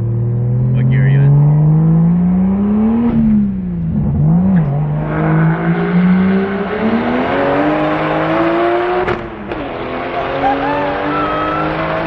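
A 530whp widebody BMW 135i time-attack car revs hard through a tunnel, its loud engine note rising, falling and climbing again, with echoing blips and crackles, while people talk over it.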